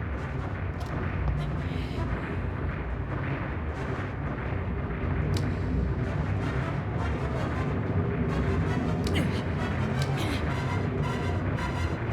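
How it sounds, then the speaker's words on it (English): Explosion in the video game Panzer Dragoon Saga, a dense sustained roar of blasts and rumbling that stays loud throughout with sharp cracks scattered across it. "That's a huge explosion."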